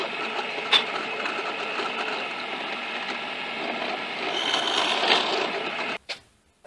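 A power drill bores a 1/4-inch hole through a wooden piece meant to hold a camera, a steady close whine that strains slightly louder toward the end before stopping, followed by a brief clatter.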